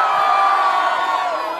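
A large floor-show crowd at a Softcult concert in Manila roars and screams loudly and steadily, a dense wall of cheering close in that fades slightly at the end.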